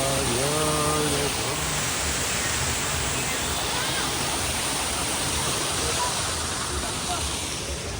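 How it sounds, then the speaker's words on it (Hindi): Steady, broadband rush of water near a waterfall in Chikmagalur fills the whole stretch at close range, with a voice talking briefly at the start over the roar. "पानी यहाँ तक आ रहा है भाई।"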